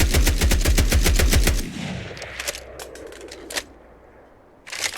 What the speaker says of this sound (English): Here's some gun sounds